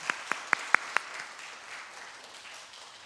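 During a Korean church's Sunday worship service in Southern California, five sharp, evenly spaced hand claps ring out up close in the first second, then fade into a faint, scattered patter of applause in a quiet room.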